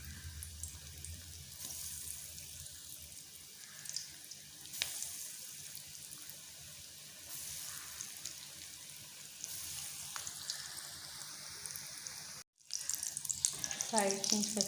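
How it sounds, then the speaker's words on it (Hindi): Chicken potato balls frying in hot ghee in a wok over a medium-to-low flame, a continuous sizzling hiss with small surges and bumps, briefly cutting out near the end before returning louder. "अब इसमें इस तरीके से रखते हुए तमाम चिकन बॉल्स को फ्राई कर लेंगे।"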